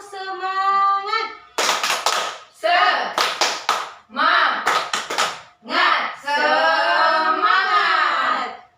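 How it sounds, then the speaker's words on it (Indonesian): Children perform a rhythmic clapping chant, sharp hand claps in patterned bursts alternating with sung chanting voices, close and lively in a classroom. "Oke, semuanya tepuk semangat."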